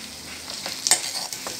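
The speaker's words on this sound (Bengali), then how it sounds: "মশলাগুলোকে মিডিয়াম আঁচ করে 30 সেকেন্ডের মতন ভেজে নেব।" Ground spices such as red chilli, coriander and cumin powder fry in a pan over medium heat. A steady low sizzle runs throughout, with a few soft stirring scrapes and small crackles, close and moderately quiet, with no speech.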